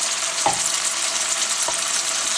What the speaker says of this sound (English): I'm heating it up, and I'm putting just a little bit of butter in it